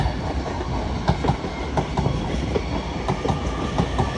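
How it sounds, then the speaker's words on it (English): An LNER Azuma train rolls into Doncaster station on the East Coast Main Line, a loud, steady rumble with rhythmic clickety-clack of wheels over rail joints throughout. "Arrived in now is your 14:45 LNER Azuma service from London King's Cross to Bradford Foster Square."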